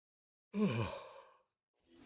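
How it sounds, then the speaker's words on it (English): A single long, breathy yawn from an old man character in the game Guild Wars 2, rising and trailing off over about a second, followed by a faint breath. "Old man yawning."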